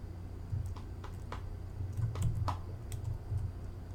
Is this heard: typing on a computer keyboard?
yes